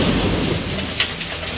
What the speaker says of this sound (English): Like it's still raining.